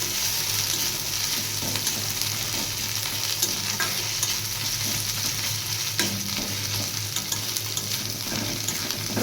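Chopped garlic and onion fry in a pan for a quick masoor dal, a dense, continuous sizzle at close range with soft stirring scrapes running through it.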